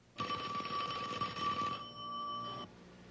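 An old-style telephone bell rings loudly in one continuous burst, then a steady tone carries on briefly before cutting off.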